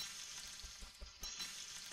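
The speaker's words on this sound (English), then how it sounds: "Let's cook our berries." Berries cooking over a campfire in the game Don't Starve, giving a steady close sizzle and crackle of frying with a few soft stirring thumps, no voices.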